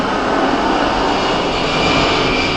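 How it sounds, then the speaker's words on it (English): A military aircraft flying overhead, its loud, steady engine roar filling the air and swelling slightly as it passes close. "Military aircraft."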